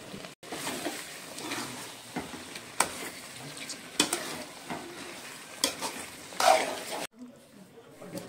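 Village-style chicken gravy cooks in a pan while being stirred continuously, with a close steady sizzle and repeated scraping and clanking of a spoon against the pan.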